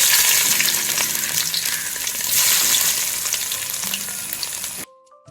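Long-sliced ginger frying in hot oil for a homemade beef pickle, a loud steady sizzle and crackle that carries on without a break and then cuts off abruptly near the end, with no voices.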